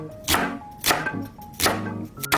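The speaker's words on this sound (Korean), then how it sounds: "깨끗하게 씻은 양배추 75g을 얇게 채 썰어주세요." A knife slices washed cabbage thinly on a cutting board, three loud, close crunching cuts spaced evenly apart, with a fourth beginning at the end.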